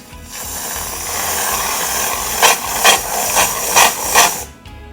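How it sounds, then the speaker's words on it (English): Canned whipped cream sprays from its nozzle in a home kitchen: a soft steady hiss, then five short, louder pulsing spurts in quick succession before it cuts off, close and alone. "canned whipped cream it is."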